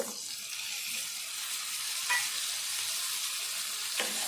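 Vegetables for a broad bean and tomato curry frying in a pan, a steady close hiss of sizzling oil with a couple of soft stirring scrapes and no talking.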